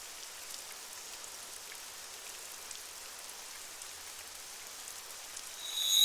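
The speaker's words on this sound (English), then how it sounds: "It's raining." Steady rainfall in the video game AI: The Somnium Files, a soft even hiss of drops falling on surfaces that holds throughout at low volume, growing slightly louder at the very end.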